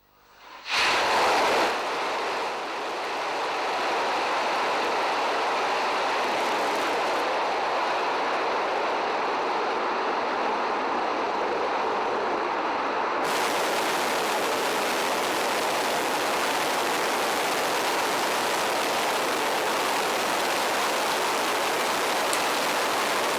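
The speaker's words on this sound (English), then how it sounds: "let's have a look at a replay of the beautiful liftoff we had a few minutes ago" A Soyuz rocket launch roars as a dense, broadband rumble that holds steady for over twenty seconds, heard from a distance with no speech over it.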